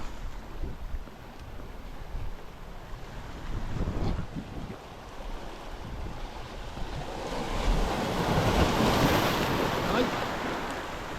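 Ocean waves wash and surge around an angler fishing from the shore, a rushing swell that builds louder toward the end, with a brief exclamation and wind noise on the microphone.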